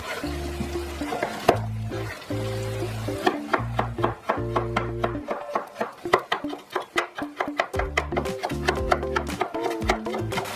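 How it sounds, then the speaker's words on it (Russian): A knife slicing carrots into matchsticks on a cutting board, a rapid run of crisp close chops, partly overlaid by a sustained musical tone, with no talking. "Соломкой порежу морковь"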